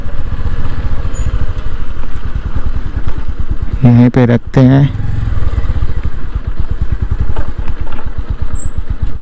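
Motorcycle engine running near and loud as it is brought in and parked at a waterfall parking area, steady chugging throughout, with a person speaking briefly over it.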